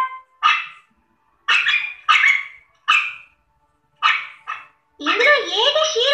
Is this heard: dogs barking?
yes